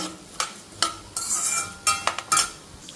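Curry leaves, tamarind and spices dry-roasting in a pan for curry leaf spice powder, with a spatula scraping and stirring in several distinct strokes over a faint, steady crackle, close by and with no talking.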